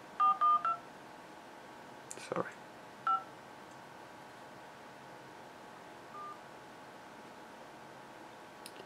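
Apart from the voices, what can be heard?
phone dialing tones on a Samsung Galaxy S4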